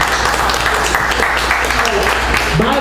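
Audience applause at a poetry reading, a brief burst of steady clapping from a small crowd that holds at an even level for about three seconds, with a voice starting at the very end.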